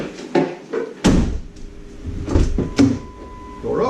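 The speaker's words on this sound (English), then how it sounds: "Door opens." A 2001 Mercury Mountaineer door unlocking and opening, with a clunk of the lock actuator followed by sharp latch clicks and thuds, up close and loud.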